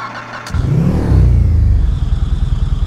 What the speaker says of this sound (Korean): 제가 엔진 소리 한번 들어볼게요.